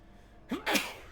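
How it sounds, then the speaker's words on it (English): A single sharp human sneeze with a quick intake of breath, close and loud, in a quiet moment. "Excuse me, old man sneeze."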